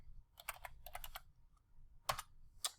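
Typing on a computer keyboard while entering commands in AutoCAD, short bursts of close, crisp key clicks separated by brief pauses, with a couple of single louder keystrokes at the end.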